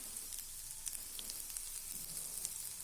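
Turmeric and chili powder sautéing with tomatoes in a pan for a tomato curry: a faint, steady sizzling hiss with soft crackles and occasional small pops, no voices.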